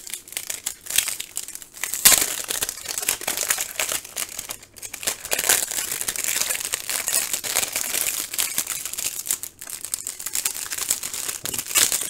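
A plastic-wrapped package is torn and pulled open up close, loud continuous crinkling and crackling of the wrapper for the whole stretch, with short pauses and sharper rips.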